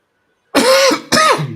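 Two harsh, throaty coughs close to the microphone after a brief silence, each a loud rasping burst with a short gap between them.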